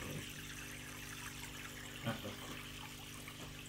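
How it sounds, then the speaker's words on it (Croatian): Water in an 80-litre home aquarium is stirred up by hand, a steady soft watery wash with faint trickling and one small splash, fairly quiet and without talk. "opet ja pomrdam vodu"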